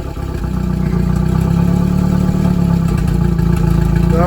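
A Hyundai truck engine with worn turbo seals and a damaged motor runs steadily at close range, a loud rough idle that swells slightly in the first second and then holds a constant rumbling drone.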